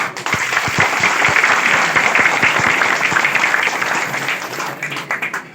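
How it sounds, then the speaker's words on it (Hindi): An audience at a Tallwin Life program in Hazaribagh claps for themselves, sustained applause with sharp individual claps standing out, fading and thinning toward the end. "तो मैं चाहता हूं कि आप सभी लोग आज अपने लिए ताली बजाएं।"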